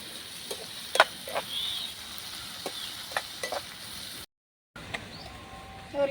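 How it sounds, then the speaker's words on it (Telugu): Tomato pieces sizzle in a pan with cooked onions for egg pulusu, giving a soft steady hiss with occasional light scrapes and clinks of stirring. A brief gap of silence breaks it before the sizzle resumes, with no talking. "ఇప్పుడు టమాటా పండ్లు వేస్తున్నా."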